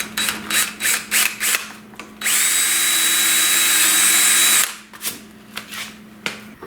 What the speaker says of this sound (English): Gonna drill a hole back here for the wire harness.